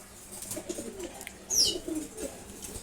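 Pigeons coo softly nearby, low rolling calls with a brief sharper chirp and light rustling in a quiet coop.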